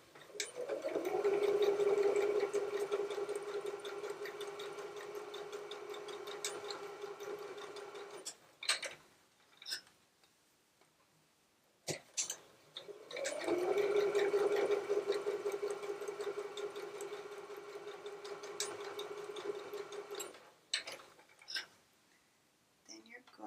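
A sewing machine stitches both sides of a retro zippered tote bag in two long continuous runs, each a steady humming whir ending in a few clicks and handling noises, with a pause between them.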